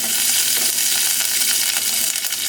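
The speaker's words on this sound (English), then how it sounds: "I'm about to add about a tablespoon of coconut oil." Coconut oil melting and sizzling in a hot pot, a steady, dense crackling hiss that stays loud and close throughout with no voices.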